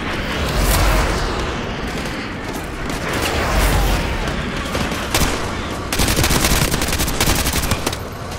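Dense gunfire and machine-gun bursts in Call of Duty Modern Warfare 2, loud and close, with booming impacts mixed in and a fast rattling stretch near the end.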